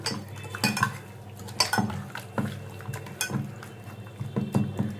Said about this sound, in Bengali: নুন মাখিয়ে দিচ্ছি মাংসে।